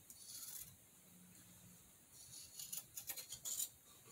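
Small fabric scissors snip away excess material from a hand-sewn 18th-century housewife sewing case, a quiet run of short cuts and rubbing sounds close by, with no talking.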